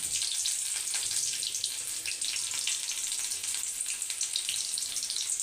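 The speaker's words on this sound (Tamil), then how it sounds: "எண்ணெய் காஞ்சதும் கடுகு, கருவேப்பிலை, வெங்காயம் போட்டேன்." Mustard seeds, curry leaves and onion frying in hot oil for a raw-banana poriyal, a continuous close hiss and crackle with a few faint pops.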